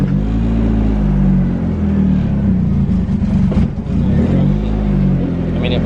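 A drift car's engine fires up and settles into a steady, low, rumbling run, with one brief dip before it evens out again.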